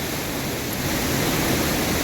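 A waterfall near Clydach in Wales roars as a dense, steady wash of noise, loud and close with no other sounds.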